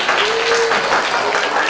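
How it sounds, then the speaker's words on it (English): Audience clapping at a children's show, a dense even patter of many hands held at a steady level throughout. "please clap your hands and let me know"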